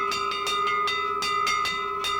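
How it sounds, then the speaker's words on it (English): Ship's bell ringing: steady, fast, evenly spaced metallic strikes over a sustained ringing tone, about nine hits in quick succession, moderately loud and alone with no talk. "Hey, that's a ship's bell."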